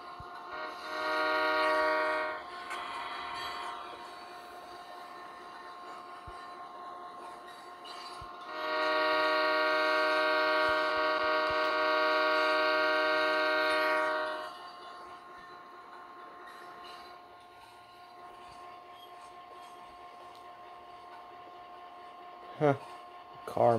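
A Train and Railyard Simulator train rumbles along with loud sustained horn blasts, one short early and one long in the middle, ending in a sharp squeal.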